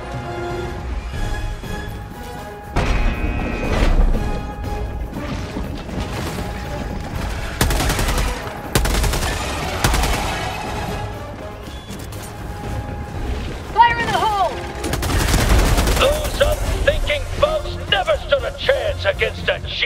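Gunfire in the video game Helldivers 2, with repeated loud bursts of shots, booms and impacts spread across the scene, mixed with voices talking in between.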